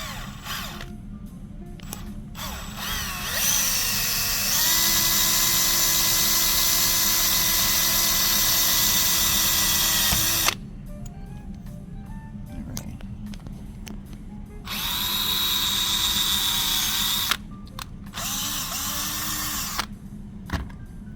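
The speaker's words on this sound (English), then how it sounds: "Just going to drill through." A power drill whines at steady speed through a plastic tail light housing from a Pontiac Fiero in two long runs, with brief pauses and quieter handling noises between them.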